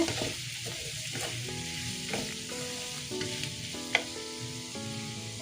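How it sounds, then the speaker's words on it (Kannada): Garlic and ginger fry in oil in a pan, a steady close sizzle with the scrape and clink of a spoon stirring, no voices. "ಇದನ್ನು ಕೂಡ ಹಾಕೊಂಡು ಚೆನ್ನಾಗಿ ಫ್ರೈ ಮಾಡ್ಕೋಬೇಕು."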